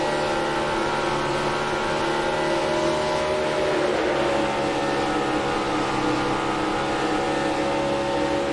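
A race car engine in NASCAR Racing 2003 with a Disney Cars mod drones steadily at high revs for the whole stretch, loud and close, with a brief swell in pitch partway through and no talk.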